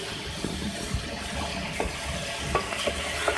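Half-boiled potato and cauliflower frying in a pan, a soft low sizzle with occasional light stirring taps and scrapes, fairly quiet and close, no talking.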